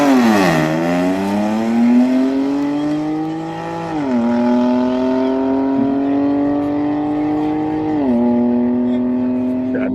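A car engine revs loudly through repeated gear climbs, each rising pull dropping sharply at a shift before climbing again, close and continuous over ten seconds, with people's voices faintly under it.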